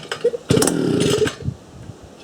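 A petrol post hole drill with a newly replaced centrifugal clutch rasps into life, a loud chainsaw-like engine burst of about a second, then sputters and fades to a low idle.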